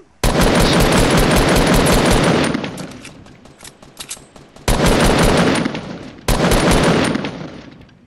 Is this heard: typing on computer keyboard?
no